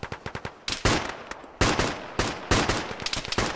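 Gunfire in the military game ArmA rattles out in rapid bursts of sharp, loud shots with a few single cracks between volleys, close by and without talk.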